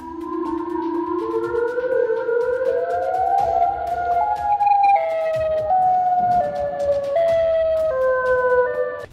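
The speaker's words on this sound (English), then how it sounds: "this sounds like tornado sirens from Chicago" Wailing siren tones climb and fall in long stepped sweeps, loud and close, resembling Chicago tornado sirens heard alone in the woods, with several overlapping pitches layering as it sounds on without any voices.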